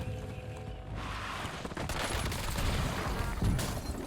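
Sniper rifle fire in the video game Warzone, a few sharp cracks and booms in quick succession over a busy game soundscape, loud and close, with no speech.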